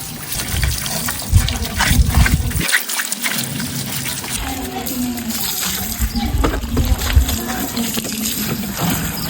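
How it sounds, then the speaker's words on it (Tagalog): Hose water rinsing a motorcycle during an outdoor wash, a steady close splashing and trickling spray running throughout with a brief pause partway through. "Yung pagkapunas, nadaanan agad ng tubig."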